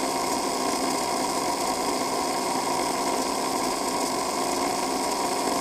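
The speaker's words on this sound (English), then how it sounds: "So just by running the wire buffer, the cloth buffer wheel over the plastic gear" A cloth buffer wheel spins against a plastic gear on a Magnatraction slot car part, giving a steady, loud, high motorized whine with a gritty hiss throughout and no voices.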